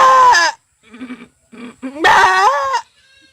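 A human voice imitates a goat bleating while giving birth: two loud, strained, wavering bleats separated by short, quieter grunting sounds.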